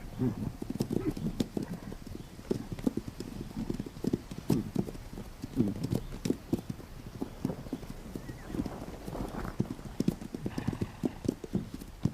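Wild horses in the Pryor Mountains clop steadily over hard, arid ground, a dense run of hoofbeats with a faint whinny later on.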